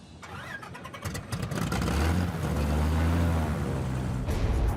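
A plane's engine running close by on the ground gives a loud, steady roar with a low droning hum that swells slightly and holds, with no talking.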